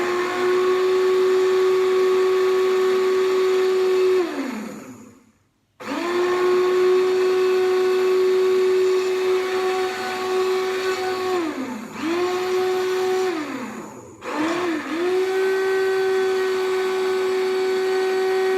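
A hand mixer whirs steadily as it beats a batch of homemade hair conditioner, the loud motor drone dipping briefly three times when the beaters slow or lift out, then resuming at full speed.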